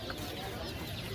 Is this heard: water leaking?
no